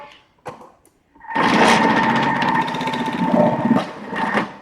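A Thermomix food processor with its cutter attachment grates food at speed 4, giving a loud, steady motor whir that rises suddenly after a brief knock and runs without a break for several seconds.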